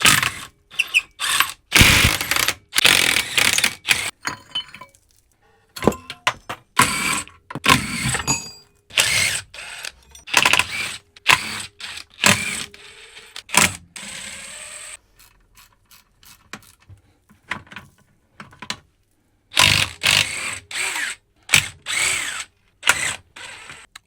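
A ratchet undoes the bolts on a Honda CRV five-speed gearbox casing during a workshop teardown, sounding as loud close bursts of clicking that start and stop repeatedly with short quiet gaps between.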